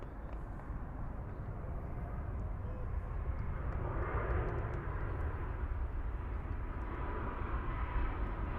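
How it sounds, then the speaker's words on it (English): An airplane near Newark Airport rumbles overhead in a continuous broad roar that swells toward the middle and slowly fades, heard from an outdoor soccer field. "we might have some planes flying overhead throughout this match."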